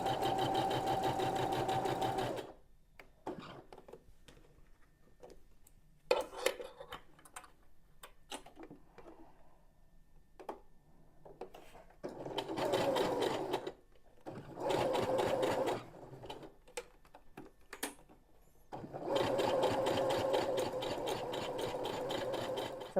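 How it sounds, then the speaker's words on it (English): A sewing machine stitches a fabric lanyard in several bursts of rapid, steady whirring, separated by quiet pauses filled with faint handling clicks. "Now we're going to go and sew down this side"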